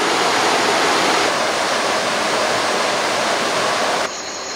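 The Chinnar river spreads and flows through dense forest in the Chinnar Wildlife Sanctuary, a loud, close, continuous rushing roar of water that drops off abruptly near the end.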